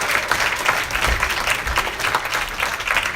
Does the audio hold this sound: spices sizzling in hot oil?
no